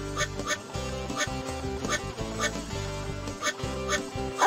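Cartoon ducks quack repeatedly in short bursts over bright music with a steady beat in an animated Blaze and the Monster Machines water race scene.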